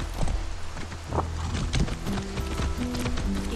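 A horse's hooves in Far Cry 6 clatter in a brisk, uneven rhythm close by, with ambient game sounds and a faint tonal hum underneath.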